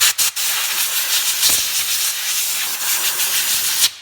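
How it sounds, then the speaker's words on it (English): Compressed air blasts dirt off the top of a fuel pump module assembly on a Chrysler Dodge van, a steady close hiss with short bursts at the start, holding without pause until it cuts off near the end. "blow any dirt off the top of the module assembly with some compressed air"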